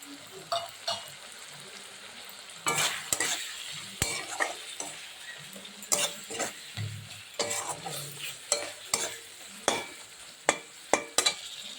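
Chilli, turmeric, cumin and coriander powders stirred and fried in a pan for vegetarian khichuri, with soft sizzling beneath sharp, irregular scrapes and knocks of the spoon against the pan, close and clear.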